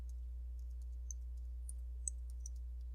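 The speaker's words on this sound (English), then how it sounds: "I'm going to type your question inside of Google" Soft, scattered clicks of a computer keyboard as a search query is typed, faint and irregular over a steady low hum, with no talking.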